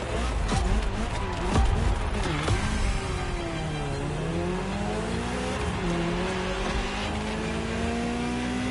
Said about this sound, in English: getting into a little sprint race there, or a little, probably a 2-lap race in the GTO